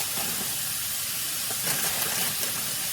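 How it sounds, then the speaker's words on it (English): Stir-fry noodles sizzling in a pan, a steady, loud hiss that stays constant throughout with no pauses. "I want to give that a little bit more of a fry"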